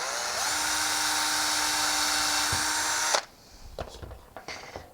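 A power drill bores a hole in a wooden gift box piece on a CNC project, whining steadily for about three seconds before stopping, followed by a few light knocks and handling sounds.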